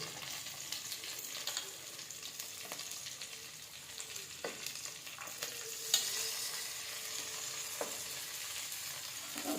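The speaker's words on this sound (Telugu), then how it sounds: "గోంగూర పువ్వుల రెక్కలు బాగా నూనెలో వేగనీయాలండి" Gongura flower petals and pods fry in hot oil, a continuous crackling sizzle broken by occasional sharp pops and scraping stir sounds, close and moderately quiet, with no talking.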